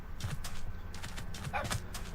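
Horses walking in the Minecraft video game, soft repeated clip-clop hoofbeats over a faint background wash, with no talking.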